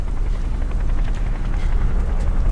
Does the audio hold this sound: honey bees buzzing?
no